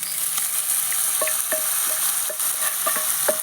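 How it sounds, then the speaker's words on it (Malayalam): Mustard and fried coconut tempering sizzles in hot oil as it is poured and stirred into a pot of erissery curry: a steady bright hiss with scattered pops and spoon scrapes, close and alone. "ഇനി നമുക്ക് ഗ്യാസ് ഓഫ് ചെയ്ത് നമ്മുടെ കറിയിലേക്ക് നമ്മുടെ എരിശ്ശേരിയിലേക്ക് തളിച്ചിടാം"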